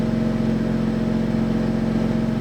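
A BMW F80 M3 engine with its CANflap exhaust valves open, running with a steady deep idle rumble and a low rhythmic pulsing throughout, close and continuous with no talking.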